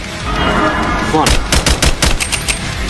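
Rapid gunfire in a video game set in an abandoned pizzeria: a burst of sharp, loud shots in quick succession following a steady noisy game background, close and dominant.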